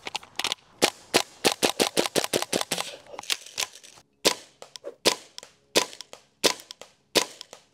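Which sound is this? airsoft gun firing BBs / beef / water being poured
airsoft gun firing BBs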